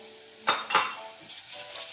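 Onions stir frying in a hot pan for a Portuguese caldo verde soup, with two sharp sizzling bursts near the start that settle into a steady quieter crackle, close up.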